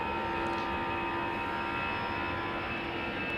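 An airliner takes off from the Polderbaan runway at Amsterdam Schiphol, its jet engines producing a loud, steady, close roar with a faint whine that fills the whole few seconds.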